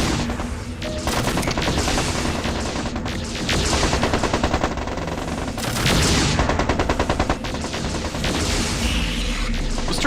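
Mechs and defensive turrets trade sustained gunfire in the Mech Commander 2 video game, a loud, continuous stream of rapid cannon and machine-gun shots with booming impacts, running unbroken throughout.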